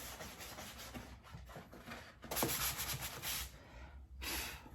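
Hand sanding with sanding blocks on kitchen remodel surfaces being prepped for primer: continuous close scratchy rubbing strokes that swell louder in bursts, with no talking.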